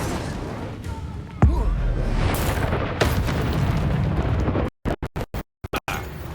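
Spell explosions from the Confringo and Incendio spells in the video game Hogwarts Legacy boom and crackle in several blasts, loud and close, with voices shouting and the sound cutting in and out near the end.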